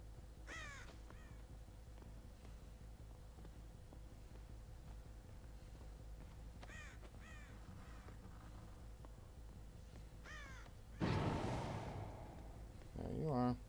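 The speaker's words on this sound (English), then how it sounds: "Who let these birds in here?" Crows cawing indoors in the horror video game Dead by Daylight, several short bursts of raspy caws recurring over a steady ambient drone, moderately distant, with a louder rumbling thud and a voice briefly near the end.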